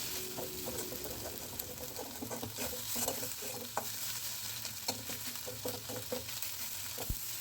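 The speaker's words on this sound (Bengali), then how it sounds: "এবার ভালো করে নেড়ে কাঁচা ডিমের গন্ধটা যাতে চলে যায় ভাজা ভাজা করে নিতে হবে ডিমটা" A raw egg is stirred and fried in a pan for fried rice made with leftover rice: sizzling hiss under repeated scraping spatula strokes, close and steady, with no talking.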